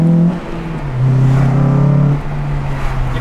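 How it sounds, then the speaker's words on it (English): A Honda Civic Si, eighth generation, with a short shifter fitted, gives a loud, close engine drone that rises and falls in pitch as the car revs and shifts, with steady road noise underneath. "Your car also makes car noises."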